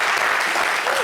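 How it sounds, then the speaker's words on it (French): A brief, dense burst of audience applause at a live television show, loud and continuous throughout. "Applaudissez."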